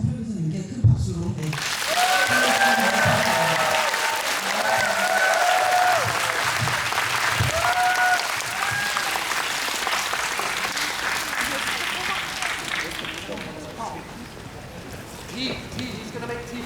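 A film festival audience at a post-screening Q&A with an actress in Busan, 2025, gives loud applause. It swells after a host's voice, stays dense and sustained with talk over it, then fades out.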